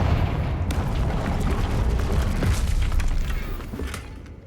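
Confringo and Bombada spell blasts going off in the video game Hogwarts Legacy, a dense rolling stretch of booming, crackling explosions with a steady deep rumble throughout and no voices.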